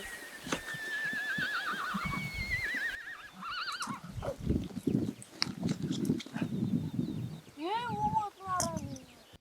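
A filly in Mongolia whinnies several times, high quavering neighs rising and falling, with a dog barking and faint background bustle between calls.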